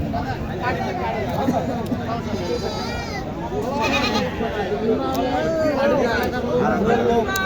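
Goats bleating at a crowded goat market, several loud wavering bleats rising over constant crowd chatter and people talking nearby.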